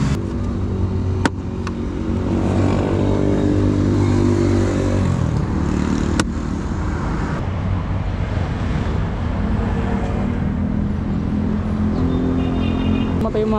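A Yamaha Fazzio scooter's small engine, faulty at under a year old, runs steadily nearby with a rough idle hum, a couple of sharp clicks, and people talking over it.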